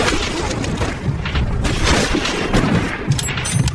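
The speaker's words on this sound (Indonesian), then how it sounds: "tiba-tiba tangan kanan Gazakov malah tewas ditembak Brandon yang bersembunyi di bebatuan" Dense, loud gunfire from a sniper battle scene in a film rings out continuously, with sharp overlapping shots and booming reports crowding together without pause.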